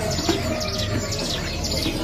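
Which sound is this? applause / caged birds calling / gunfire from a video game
caged birds calling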